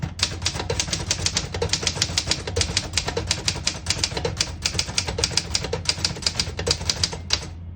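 A well-tuned manual typewriter is typed on rapidly, a dense, even stream of sharp key strikes close by, with no pauses until a single final stroke.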